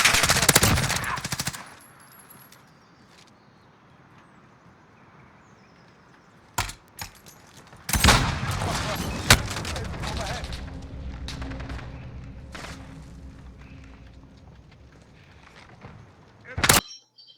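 Gunfire in Call of Duty multiplayer: a loud burst of rapid shots at the start, then scattered single sharp shots and another volley later, amid quieter game sounds and some talk.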